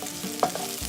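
Garlic, onion and coriander root being stir-fried in a pan over low heat, a short soft sizzle with a scrape of stirring partway through, close and quiet.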